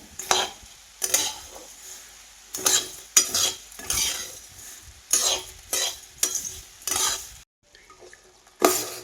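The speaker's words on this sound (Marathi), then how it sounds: "आता उरलेले बाकीचे धने सगळे भाजून घेते" Native coriander seeds dry-roast in a kadhai, with regular bursts of scraping and stirring against the metal, each stroke rising sharply then falling back to quiet, close and unaccompanied by talk.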